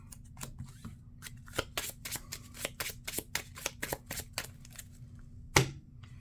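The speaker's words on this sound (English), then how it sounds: "Let's go ahead and use Aja Adana to shuffle" A deck of Marvel Champions playing cards is shuffled by hand on a tabletop, a close run of quick, crisp riffling snaps and clicks in bursts, with one sharper knock near the end.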